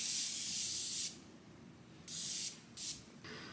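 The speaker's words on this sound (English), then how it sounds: "Just gonna do a layer of setting spray first." Makeup setting spray mists out of its bottle in bursts: a long loud hiss, a pause, then two shorter sprays in quick succession, close and clear with no talking.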